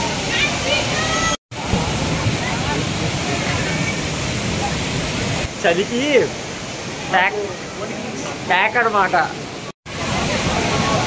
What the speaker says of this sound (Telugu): చాలా బాగుంది వాటర్ ఫాల్